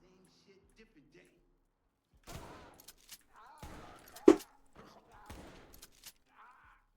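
Gunfire in the tactical police shooter Ready or Not: several sharp broadband bursts and one loud crack near the middle, with players talking between the shots.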